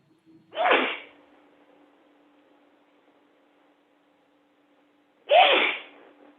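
Two sharp sneezes, several seconds apart, each a short loud burst with near silence between them.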